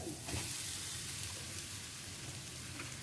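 Grated tapioca frying in ghee, a steady, faint hiss of sizzling like light rain across the whole stretch, with occasional soft stirring sounds and no talking.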